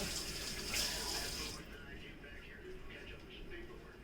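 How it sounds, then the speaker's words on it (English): A kitchen tap runs steadily while hands are rinsed, the stream splashing strongly for the first second and a half before easing into a quieter, continuous trickle. "Rinse the hands off, keep everything clean."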